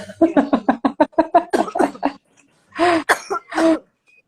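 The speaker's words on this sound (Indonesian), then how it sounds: "Soalnya dia lagi batuk." A rapid run of close, harsh coughs, then a short pause and two more throaty coughs.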